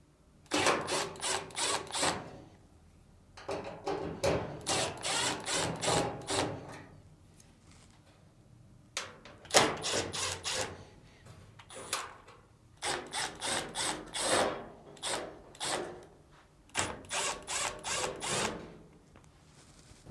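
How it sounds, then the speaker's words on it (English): Screws being driven out of the upper frame plate of a Samsung dryer with a power driver, heard as a series of short whirring bursts in quick clusters separated by brief pauses. "remove the screws on the upper frame plate."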